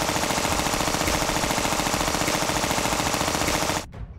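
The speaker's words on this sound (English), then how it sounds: "When I first attempted the machine gun sound, I used a loop that sounded like this." A looped machine gun effect built in Pure Data for the game Angry Bots rattles off rapid, evenly spaced bursts in a rigid mechanical rhythm, loud and close, then cuts off abruptly near the end.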